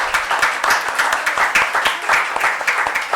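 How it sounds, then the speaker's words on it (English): Audience clapping at a session of the Bhopal Literature & Art Festival: steady, dense applause from a seated crowd, continuous and fairly loud across the whole stretch, with no one talking over it. "can we give them a huge round of applause?"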